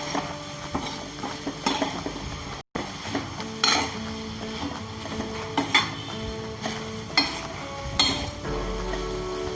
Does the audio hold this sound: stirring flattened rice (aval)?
yes